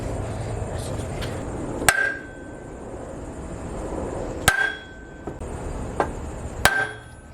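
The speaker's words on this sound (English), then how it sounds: "just whack it with a hammer" Three sharp metallic hammer strikes on a metal puller ring out a few seconds apart, each leaving a brief bright ring over a low background rumble.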